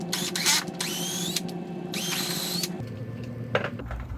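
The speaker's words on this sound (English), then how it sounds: "I'm going to go ahead and grab a drill" A power drill whines in short bursts, drilling into a resin block, revving up and cutting out several times, close by and loud over a low background hum.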